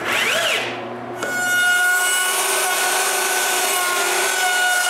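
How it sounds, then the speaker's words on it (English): A power drill drives screws to fix plywood blocks onto the ends of a movable workbench, with a rising whine and a steady high-pitched motor hum, close and loud. "I just need to screw the 3 pieces together. At the ends, I screw plywood blocks."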